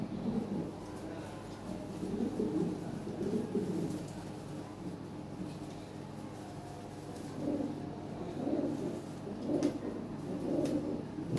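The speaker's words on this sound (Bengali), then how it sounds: "এগুলো বাছাই করা কবুতর" Lahori Siraji pigeons, a selected show breed, coo in soft, low, rolling bursts that repeat every second or two against a quiet background, with a faint murmur of people nearby.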